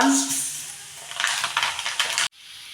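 Mustard seeds and fenugreek spluttering in hot oil for kaalan tempering, a burst of rapid crackles and pops over a soft sizzle, close by, then stopping abruptly.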